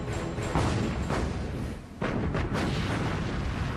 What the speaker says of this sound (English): Bismarck and Prince Eugen rapid fire their main and secondary armament.